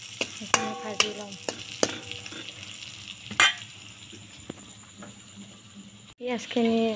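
Onions and green chillies sizzle in oil under a series of crisp metal clinks from stirring, the frying settling quieter before a brief voice is heard at the end.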